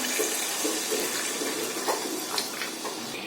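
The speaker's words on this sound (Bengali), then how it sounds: "এবার এর মধ্যে আমি জল দিয়ে ঢেকে দেবো।" Water is poured into a pan of Mughlai chicken as it cooks, a steady close splashing gush with faint sizzling underneath. No one speaks.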